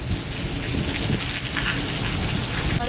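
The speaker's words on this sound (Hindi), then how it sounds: "बादल एकदम ऐसे कड़क रहे हैं, खट खट खट खट" A severe windstorm with heavy rain and thunder roars steadily and loudly, a dense continuous wash of rain hitting surfaces with low rumbling underneath and no voices.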